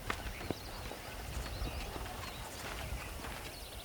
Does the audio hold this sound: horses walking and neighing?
yes